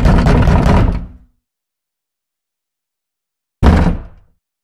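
A door is forced open and broken with a long, loud crashing burst, then silence, then a second short heavy bang close by, with no talking.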